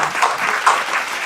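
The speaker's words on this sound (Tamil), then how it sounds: "ஒரு கரகோஷத்தோட அவர்களை வரவேற்கலாம்." Audience applause welcoming a guest onto the stage at an astrology event in Salem, a steady, dense round of clapping lasting the whole moment without any voices over it.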